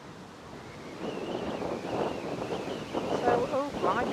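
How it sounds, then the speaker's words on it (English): Wind buffets a microphone outdoors at Manchester Airport, a steady rumbling roar that swells louder toward the end, with a voice talking underneath. "oh blimey, that wind again"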